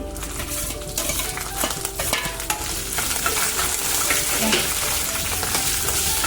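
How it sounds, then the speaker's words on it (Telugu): Green chillies fry in oil in a pan, crackling and sizzling steadily up close while a utensil stirs and scrapes through them. "పచ్చిమిర్చి వేగాక వేయించుకోవాలి ఒక 5 నిమిషాలు"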